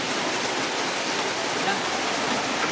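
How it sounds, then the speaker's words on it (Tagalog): Very heavy rain pours down in a steady, dense roar of broadband hiss, constant and loud throughout with no pauses. "Sobrang lakas ng ulan, tol."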